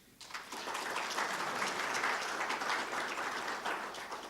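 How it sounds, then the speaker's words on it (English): Audience applause for KPMG at a keynote speech, a steady wash of many hands clapping that swells quickly and holds at moderate loudness before easing off slightly at the end. "So I think KPMG deserves a warm applause."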